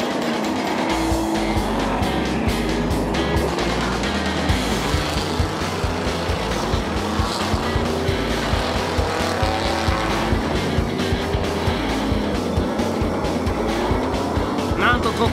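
Tuned cars race round a dirt oval, engines roaring and revving continuously with tire noise, a dense busy mix of cars under a voice talking throughout.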